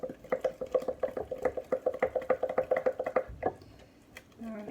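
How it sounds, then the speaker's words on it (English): Sourdough starter flour and water being stirred in a glass jar, a rapid run of soft rhythmic scraping strokes close by that stops near the end. "So what I'm doing is I'm just kind of like pulling away from the sides to make sure I get all the flour in there."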